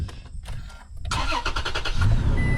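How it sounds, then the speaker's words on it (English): A car engine cranks with a quick stuttering rhythm for about a second, then catches and rises into a steady running idle, close and fairly loud, right after a blown fuse in a truck has been replaced. "So the car not only starts up"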